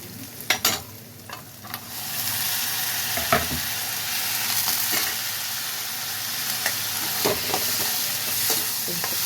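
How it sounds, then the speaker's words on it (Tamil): Onions sauté in a pan as tomatoes are tipped in for a village-style curry, with a loud continuous sizzle, scattered spoon knocks and scraping from stirring, close and alone. "வெங்காயம் நல்லா வதங்கிடுச்சு இப்போ தக்காளி சேர்த்துக்கலாம்"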